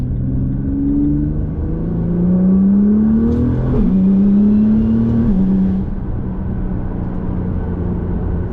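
A rear-wheel-drive performance car accelerating hard onto a highway to overtake a slower SUV, engine note rising steadily through the gears with a brief shift dip, loud and close from inside the cabin, then settling to a cruising drone.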